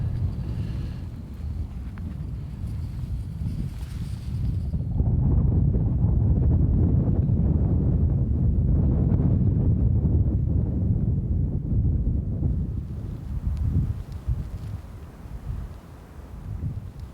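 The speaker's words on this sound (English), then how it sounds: "This wind does not want to let up." Strong wind blows at a high mountain campsite in the Wind River Range's Titcomb Basin, a constant roar buffeting the microphone that swells in the middle and eases toward the end, with no voices.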